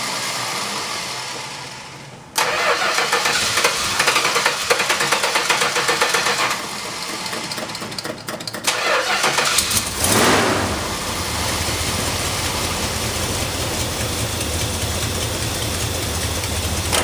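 A Dodge Charger just taken out of storage cranks over and fires, then settles into a loud, steady idle with a rough, rumbling exhaust carrying a slight leak, close by, with no talking.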